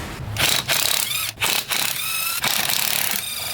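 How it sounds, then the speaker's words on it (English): A ratchet or impact tool loosens the lug nuts on a Nissan 240SX, heard as loud, close mechanical rattling and whirring in several bursts separated by brief pauses. "loosen the lug nuts a little"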